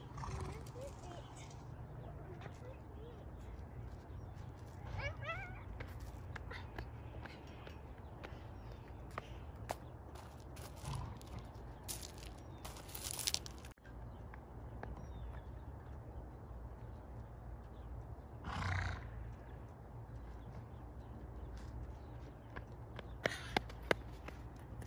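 A horse at dinner time whinnies and its hooves clip-clop at a moderate distance outdoors, with people talking over the top throughout.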